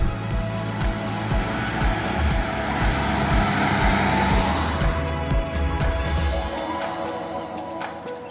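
An Opel Crossland X driving over cobblestones through tight little bends, a steady loud rumble of engine and tyres on the uneven stones throughout, easing off near the end, with no one speaking.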